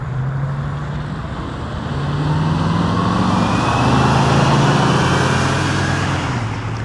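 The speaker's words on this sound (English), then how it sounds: "You can kind of hear it whine. Forced air induction." A 1981 Pontiac Trans Am Turbo's turbocharged V8 drones loudly as it passes, swelling in the middle, with a faint high turbo whine riding over the engine note.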